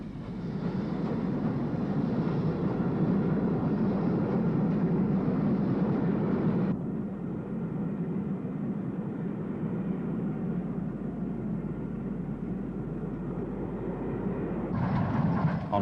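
BR Standard Class 5 steam locomotive 73137, fitted with Caprotti valve gear, hauls a parcels train toward Marylebone, a steady continuous rumble of moving train, alone without voices, with an abrupt level change partway through.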